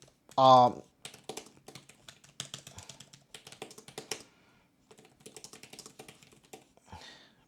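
Keys on a Nillkin backlit magnetic keyboard case for a 13-inch iPad Pro clatter in quick, uneven bursts of close tapping, with a brief loud sound at the start and short pauses between runs.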